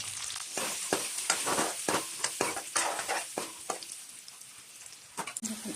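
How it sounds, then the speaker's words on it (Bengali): Baby potatoes shallow frying in oil with turmeric and a pinch of salt, sizzling steadily with repeated stirring scrapes and clacks close up, for an onion curry. "বেবি পটেটোগুলো আমি এখানে ফ্রাই করে নেব, হালকা শ্যালো ফ্রাই"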